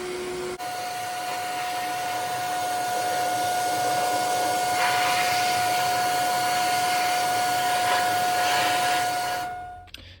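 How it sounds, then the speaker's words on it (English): Sandblasting a car wheel, a Mustang wheel with its tire removed: a steady, loud broadband hiss of blasting air and grit runs almost the whole time with no break, then stops abruptly at the very end. "It took like an hour just to sandblast that"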